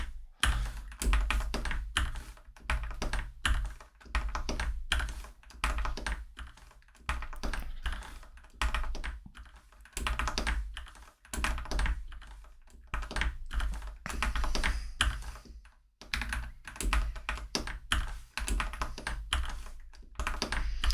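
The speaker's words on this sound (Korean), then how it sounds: "지금 가지고 있는 키보드도 이게 되는 키보드인데" Rapid, continuous clacking of computer keys, typed in bursts with brief pauses, close and fairly loud, no voices.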